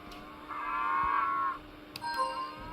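Cattle in the 3D Ultra Lionel Traintown game give one drawn-out synthesized moo lasting about a second, followed by fainter tonal calls, over a quiet background with no talking.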